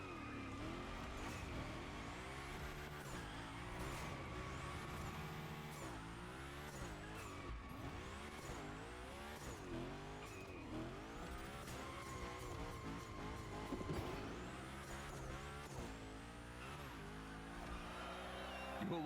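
Cars slide and skid through gymkhana drifting in the video game The Crew Motorfest: steady engine roar with repeated rising and falling revs and continuous tire squeal, loud and close throughout, with no talking.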